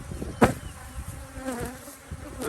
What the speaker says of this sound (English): All these bees are coming in.